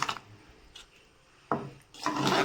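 A spoon stirs Karnataka-style bisi bele bath in a cooking pot after salt goes in, giving three short, close scraping strokes separated by brief pauses.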